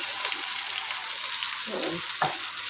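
Mutton with bitter melon, onion, tomato and green chilli frying in a pot, a soft steady sizzle with a few brief stirring scrapes, close up and fairly quiet, no talking.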